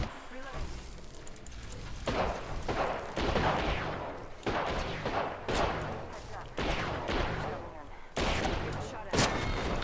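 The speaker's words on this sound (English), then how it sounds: "Enemy spotted. I'm taking shots." Rapid gunfire from Apex Legends rings out in loud bursts and volleys, with sharp shots repeating across the clip and a voice talking over them.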